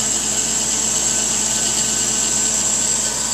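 A micro CNC router runs a program carving a zen garden piece held down by stainless screws, giving a loud, steady, unbroken high-pitched machine whine and hiss throughout.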